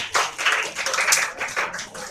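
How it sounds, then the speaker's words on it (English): An audience claps for both sides at a school debate, a burst of scattered, uneven applause lasting a couple of seconds, fairly loud and close, swelling and thinning in waves. "Let us give both sides a round of applause."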